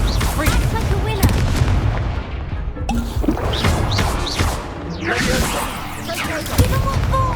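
Incendio and Confringo spells explode one after another in a Hogwarts Legacy duel, giving loud, booming blasts and crashes with whooshing and crackling magic effects. The bursts come close together, dense and continuous.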